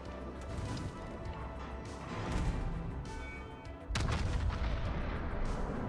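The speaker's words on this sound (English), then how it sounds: "We got lucky with that salvo." Naval artillery salvo in World of Warships, a dense rumble of heavy booms and crashes running throughout, with a louder burst of fire striking near the end.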